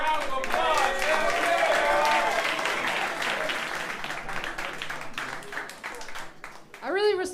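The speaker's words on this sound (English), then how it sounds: "Give them a round of applause." An audience at a podcast roast applauds, a dense burst of clapping and cheering up front that gradually thins, with voices talking and laughing over it and a short whoop near the end.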